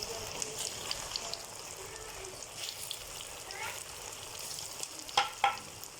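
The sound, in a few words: potato dhoklay frying in hot oil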